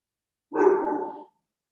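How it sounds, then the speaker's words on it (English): A single dog bark, short and fairly close, sounding alone in an otherwise quiet indoor room. "My dog is barking right now."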